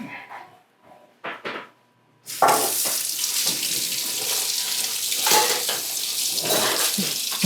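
After a few soft knocks and shuffles, a kitchen tap opens and water gushes steadily while tomatoes are rinsed under it, a loud, continuous splashing that fills the rest of the stretch.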